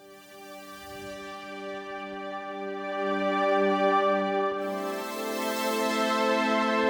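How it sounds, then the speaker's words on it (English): A sustained synthesizer pad holds a rich, steady chord, swelling gently louder and brighter partway through, with no voices. "I've chosen a really nice sounding pad."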